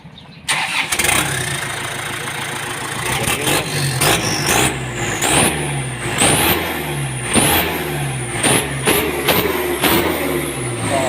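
A car engine fitted with a newly installed turbo revs up hard several times in a row, each rise in pitch followed by a drop. The revs are loud and close, with no talking.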